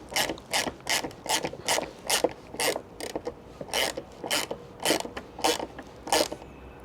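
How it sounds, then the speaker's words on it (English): Ratchet wrench tightening motorbike wing mirror bolts: close, crisp bursts of clicking come in short repeated strokes, each group of clicks separated by brief pauses. "just got to tighten these bolts up"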